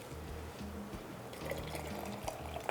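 Half a cup of water poured over carrots with salt and crushed red pepper flakes to make pickle brine, a steady close splashing pour over a low background hum.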